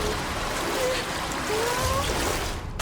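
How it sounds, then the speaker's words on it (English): Water draining and trickling in the Resident Evil Requiem video game, a steady watery flow with faint tonal game sounds drifting over it, moderately loud and continuous, with no talking. "When you drain the water down here, it should say a ton of blood has flowed out."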